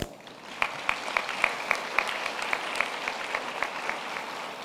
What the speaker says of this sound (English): I invite you to give yourselves a big round of applause